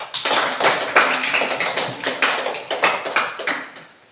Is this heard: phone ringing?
no